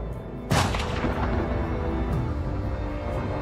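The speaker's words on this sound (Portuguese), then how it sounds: "Quando os tiros param de ecoar" A single loud gunshot from the execution of Stauffenberg and his men cracks sharply, then echoes and rumbles away into a long reverberant tail.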